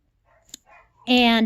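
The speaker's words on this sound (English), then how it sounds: "no barking, Charlie." A dog gives a single loud, close bark at the end, preceded by faint soft noises and a brief thump.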